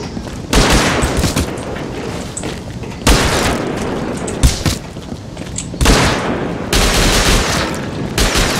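Bursts of rapid gunfire in the video game Rust erupt repeatedly during a raid, loud and close, with sharp shots and booming blasts separated by brief quieter gaps.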